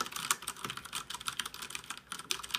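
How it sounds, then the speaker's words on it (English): Fast typing on a Ducky Shine 3 mechanical keyboard with Cherry MX Brown switches, a dense, continuous run of close, crisp keystroke clicks with no talking. "I can type pretty fast for never actually having a mechanical keyboard like this."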